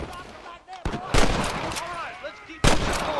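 Gunfire in the video game Red Dead Redemption: sharp, loud shots crack out in a few separate bursts, with someone talking over the game sounds.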